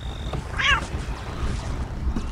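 A cat in the video game Postal 2 gives a single short meow, moderately loud over a low background rumble.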